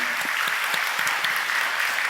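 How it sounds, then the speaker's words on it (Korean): A church congregation applauds new members at a Sunday praise service. The clapping is a steady, even rush of many hands, sustained at moderate loudness throughout. "다 같이 박수하겠습니다."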